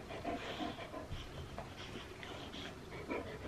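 A dog pants close by in rhythmic, quick breathy bursts. The panting is quiet and soft and is heard alone, with faint rubbing noises.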